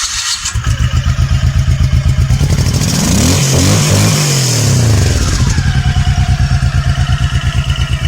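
A motorcycle engine cranks, catches and revs up loudly, then settles into a steady, rapid idling putter close by.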